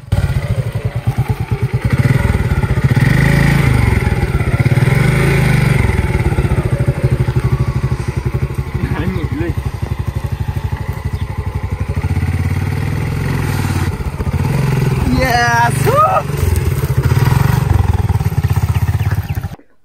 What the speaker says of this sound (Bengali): আমি নিজেই বাইক ঘুরিয়ে চেষ্টা করি উপর দিয়ে তোলার জন্য